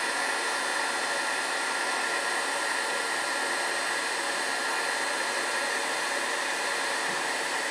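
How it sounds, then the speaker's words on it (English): Embossing heat tool blowing hot air while warming up for a holiday card made with expanding mousse, a steady, loud broadband whoosh that holds unchanged throughout with no talking. "I like to kind of heat my heat tool"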